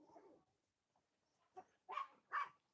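A puppy gives a few small, faint yips and barks, the last two louder and close together, with quiet gaps between them.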